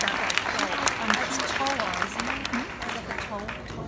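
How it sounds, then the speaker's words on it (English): Applause from a banquet audience at an awards dinner for a doll show, clapping for the actors, steady and moderately loud, with voices talking over the clapping throughout. "Give another round of applause for the actors."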